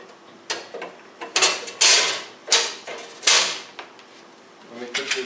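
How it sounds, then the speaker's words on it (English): Small metal nuts are fitted onto the screws of a bed of nails tester plate, giving a series of close clicks, scrapes and rattles in irregular bursts between quieter pauses. "Let me put the nuts back in."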